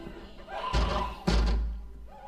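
A door in a high school setting is slammed and shoved against, giving two heavy, booming thuds about half a second apart that ring out briefly before fading.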